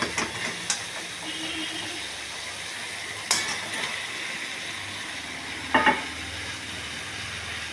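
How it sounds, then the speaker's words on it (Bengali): Rohu fish pieces fry in a spice paste, giving a close, continuous sizzle with a few sharp bursts of spattering and occasional stirring clinks. "মশলাটা হয়ে গেছে এবার হচ্ছে তোমার মাছগুলো এর মধ্যে ছেড়ে দেবো"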